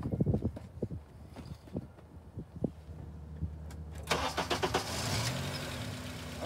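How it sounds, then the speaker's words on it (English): A car that has been stalling is started: a few soft clicks and knocks, then the engine cranks and catches, settling into a steady, close idle for the last couple of seconds. "I will start the car"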